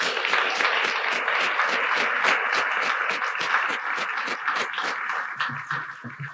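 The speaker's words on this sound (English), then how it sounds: "I do want to give them a big round of applause" A civic audience applauds after a State of the City address, a steady patter of many hands clapping at moderate volume that thins out toward the end.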